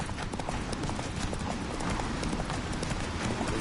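Roach, the horse in The Witcher 3, gallops at speed, with a fast, continuous clatter of hooves that stays loud and dense throughout, layered over busy game ambience.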